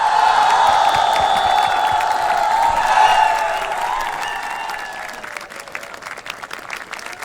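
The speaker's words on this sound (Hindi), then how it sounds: "जोरदार तालियां अपने लिए बजा लीजिए" An audience at a Republic Day event with Bhumi Pednekar and Assam Regiment Agniveers bursts into loud, dense applause that tapers off into scattered claps.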